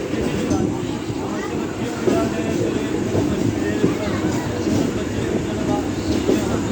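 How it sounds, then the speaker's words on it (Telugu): An express train pulls out of CSMT in Mumbai, a steady, loud rail rumble with clatter filling the whole span without a break. "సో CSMT నుంచి బయలుదేరింది ట్రైన్."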